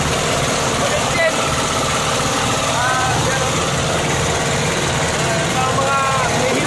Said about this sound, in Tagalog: Yan yung gamit namin makina